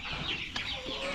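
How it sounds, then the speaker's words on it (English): Young chickens on a family farm cluck and cheep continuously in a busy, close flock chorus, one sharper call standing out briefly among them. "This is our second batch of chicks."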